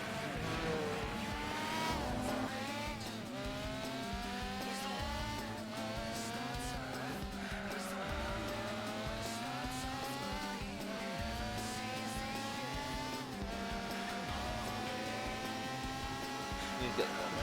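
Race cars lapping the Nordschleife in Gran Turismo 4, a steady, loud layered engine drone with rising and falling revs through gear changes, persisting throughout alongside faint talk.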